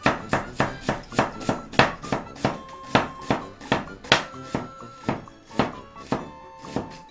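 A knife chops onions on a cutting board in about twenty sharp, evenly spaced thunks, loud and close, with a few faint murmurs between strokes.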